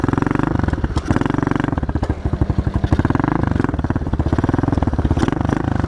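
A pit bike motorcycle engine idles and runs steadily nearby, a loud, even chugging putter that surges slightly in places, with no voices over it.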